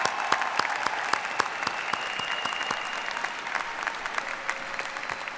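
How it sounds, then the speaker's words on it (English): A commencement audience applauds graduates' families, producing steady, dense clapping from a large crowd with sharper individual claps standing out throughout. "They deserve a big round of applause."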